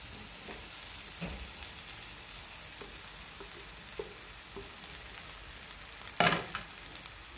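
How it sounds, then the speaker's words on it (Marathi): Four boiled potatoes drop into masala paste frying in a pan for a masala dosa filling, giving a steady soft sizzle with one brief louder clatter and spatter near the end. "त्याच्यामध्ये आपण उकडून घेतलेले 4 बटाटे टाकून घेणार आहोत."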